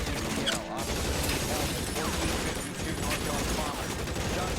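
Gunfire in the crime video game L.A. Noire: dense, loud volleys of shots and mechanical clatter run continuously, with sharp bursts layered over a constant rumbling din.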